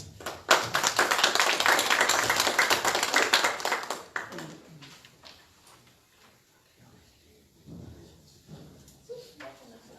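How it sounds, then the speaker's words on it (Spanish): Audience applause welcoming a guest speaker at an academic family-law diploma event in Tacna, Peru: loud, dense clapping for about four seconds, then fading into scattered claps and light room noise. "Recibamos con un fuerte aplauso al magíster César Eusebio Ramos Padilla"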